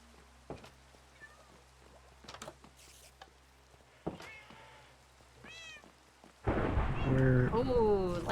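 Thunder from a lightning storm in the Minecraft video game breaks in late as a sudden loud, sustained rumble, following quieter stretches with scattered game sounds, meow-like calls and faint voices.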